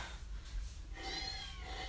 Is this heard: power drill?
no